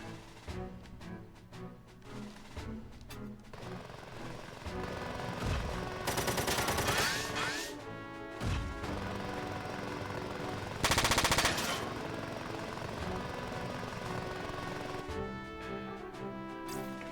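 Machine gun fire in the Front Mission 4 video game, long steady bursts over a dense music bed, loudest in two short stretches, with no talk.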